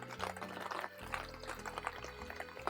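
Mineral water is poured into potato pancake batter of grated potatoes, egg, flour and seasoning, a faint bubbling, gurgling trickle over a low background hum.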